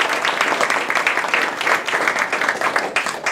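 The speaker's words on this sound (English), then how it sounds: "So please join me in thanking him with our applause." An audience at a university speech competition applauds a sponsor with dense, sustained clapping from many hands, loud and close, holding steady throughout with no voices over it.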